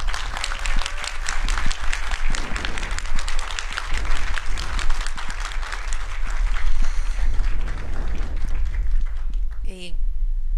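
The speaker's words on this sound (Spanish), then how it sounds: "Recibámosla con un fuerte aplauso, por favor" An audience at a book presentation applauds a speaker, a dense, sustained wash of clapping from many hands that fades near the end as a voice begins.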